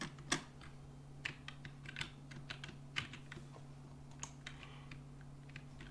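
Irregular plastic clicks from fingers typing on the WASD keys of a computer keyboard while playing Miner's Haven, close and fairly soft over a steady low electrical hum, with no talking.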